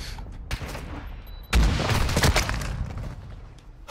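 A video game gunfight, with a sharp single shot followed by a loud booming report and a rattling burst of gunfire that slowly fades, heard close and alone without talk.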